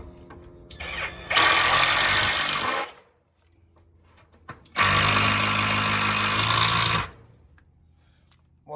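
A power driver sinks screws into a wooden chicken roost in two sustained, loud whirring bursts close by, each lasting a couple of seconds, separated by a quiet pause with faint handling noise.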